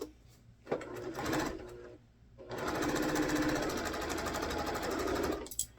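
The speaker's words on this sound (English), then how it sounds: "we're just going to start sewing them down one column at a time without breaking the threads" A sewing machine stitches cotton quilt blocks in a continuous chain, running in two bursts separated by a short pause, the second a long, steady whirring run that stops near the end.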